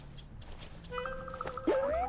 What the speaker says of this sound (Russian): Это белка-летяга!